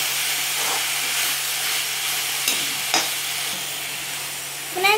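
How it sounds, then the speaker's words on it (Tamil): Agathi flowers sauté in a hot pan, giving a steady low sizzle and hiss with a few soft stirring scrapes and clinks throughout, near and fairly quiet. "இந்த பூ போட்டு நல்லா சாட்டே பண்ணுங்க"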